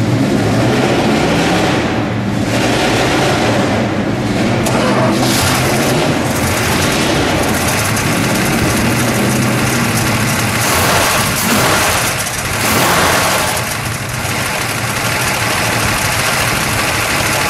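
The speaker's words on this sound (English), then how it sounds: "Let's fire it up, shall we? We'll let it idle. We'll give it a rev." A 1966 Dodge Coronet 440 with a 426 Hemi V8 rumbling at idle, a loud, lumpy low-end growl that runs steadily throughout, with a few brief swells and a slight dip late in the run.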